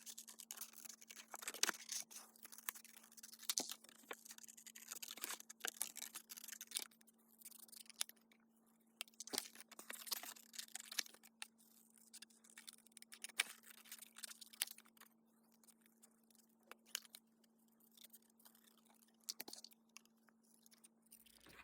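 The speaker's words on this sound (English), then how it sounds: "now it's time to get out those snips and do some fussy cut" Small snips fussy-cutting stamped paper pieces, giving repeated faint crisp snipping clicks spread irregularly through a quiet, steady background hum.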